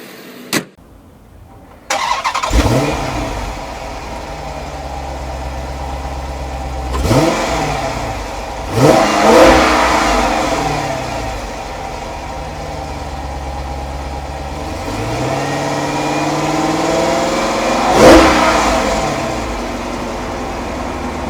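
A 2012 Dodge Charger SRT-8 Super Bee's V8 cranks and fires up after a brief silence, settles into a deep idle, then is revved several times with rising and falling throttle blips, loud and close, no talking.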